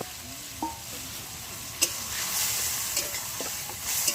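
Spice paste of green chilli, cumin and ginger frying in a pan with an egg omelette, a steady bright sizzle with a few clinks and scrapes of stirring.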